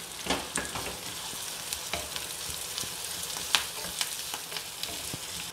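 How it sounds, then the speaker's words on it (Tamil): Small onions, slit green chillies and curry leaves sauté in hot oil in a pan, giving a steady close sizzle broken by scattered light clicks and scrapes of stirring. "வெங்காயம் இப்போ வதங்கிருச்சு பாருங்கள்."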